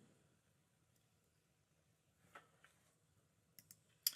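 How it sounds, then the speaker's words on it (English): A few faint, sharp computer mouse clicks on a web link, isolated and quiet against near silence, with a couple of soft clicks just before a crisper final one. "I'm going to click on the link to bring me straight to the form"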